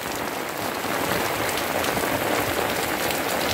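Heavy rain pours steadily onto Colocasia plants in strong wind, a dense, even hiss of drops throughout, close and unbroken, no voices.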